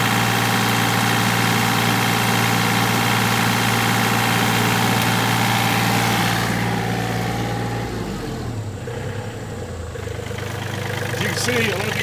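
A Yanmar B27 mini excavator engine idles in a steady, loud, close diesel drone that shifts and dips briefly near the end before settling again.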